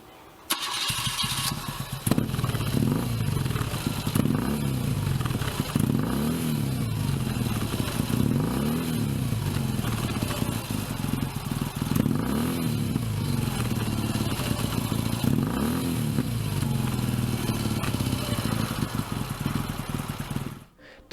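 A BMW R80 GS air-cooled pushrod flat-twin boxer motorcycle engine starts, then runs loud and close with repeated throttle revs rising and falling over a steady rumble, alone and without talk, before cutting off at the end.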